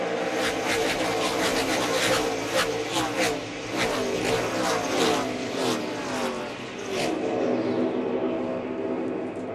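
ARCA stock cars race past at Pocono, a continuous loud engine roar with several cars whooshing by in quick succession, dense and sustained throughout.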